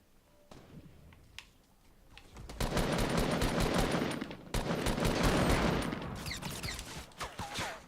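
Rapid automatic gunfire from Fortnite arrives in loud sustained bursts after a quieter opening, with a brief pause and then more shots, plus a few crisp clicks and pops near the end.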